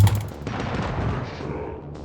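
Gunfire in the mobile shooter game Johnny Trigger: a loud opening shot followed by a dense burst of rapid, overlapping shots over two seconds, with no talking.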